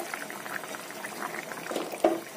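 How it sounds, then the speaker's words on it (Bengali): Bengali tangra fish curry simmering in a pot with fried cumin added, a soft steady bubbling and gurgling at moderate level, with one sharper pop near the end. "একটু ফুটিয়ে নামিয়ে দেবো মাছের ঝোলটাকে"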